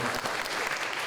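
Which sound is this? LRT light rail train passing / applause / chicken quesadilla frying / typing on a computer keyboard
applause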